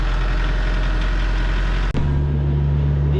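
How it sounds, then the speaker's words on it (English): A tractor engine runs loud and close at a steady idle-like throb, then an abrupt shift leaves a lower, steadier engine drone as the machine moves off, with no voices. "Bye-bye tractor."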